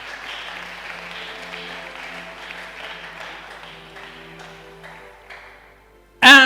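Church congregation applauding and acclaiming the Lord during a Sunday service, a sustained swell of many voices that ends in a sudden loud, brief burst of cheering and clapping.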